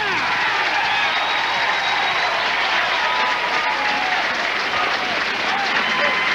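Dense, sustained applause from a crowd at a professional bowling tournament following a shot, loud and even across the whole stretch, with clapping blending into a continuous roar.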